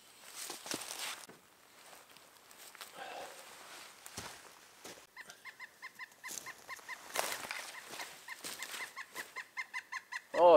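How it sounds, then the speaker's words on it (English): A pileated woodpecker in the woods around a bushcraft camp gives a rapid, evenly spaced series of ringing calls at moderate distance, following earlier rustling and footsteps on the forest floor. "it's a pileated woodpecker"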